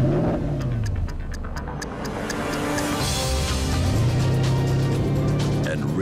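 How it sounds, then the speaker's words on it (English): The V8 engine of a 2009 Porsche Cayenne GTS with a sports exhaust rises and falls in pitch as it revs and accelerates, a throaty exhaust note heard fairly close, with a voice speaking over it. "Enriching the powerful engine sound."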